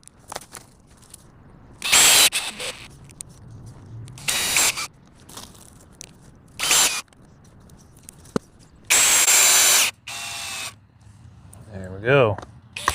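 A power drill drives screws into wood without pilot holes. Several loud bursts of whirring, each several seconds long, are separated by pauses, and the last one ends with a ratcheting sound. Someone talks between the bursts.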